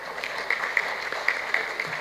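Audience in a university hall at a doctoral examination applauding: a short burst of clapping, steady and moderately close, with a few sharper claps standing out.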